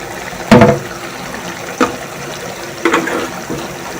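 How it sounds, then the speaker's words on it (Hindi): Cooking oil is poured into a pan for a spicy masala beef fry, making a few brief, close splashing gushes separated by short pauses, with no talking. "अब इस टाइम पे मैं इसके अंदर ऑयल डाल रही हूँ।"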